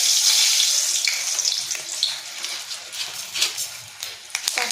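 Dried red chillies fry in hot oil in a pan after sesame-seed fritters, giving a close, steady hiss and crackle with scattered sharper pops throughout, with no talking.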